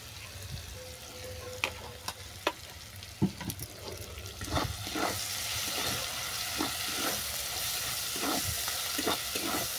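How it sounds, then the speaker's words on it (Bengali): Jackfruit seeds, green chilies and poppy seed paste fry in a pan. A few sharp taps and clinks come first, then a steady sizzle swells up with frequent stirring scrapes, near and moderately loud, no talk. "কাঁঠাল দানা অল্প করে ভেজে নেওয়ার পর দিয়ে দিচ্ছি কাঁচা লঙ্কা আর পোস্ত বাটা"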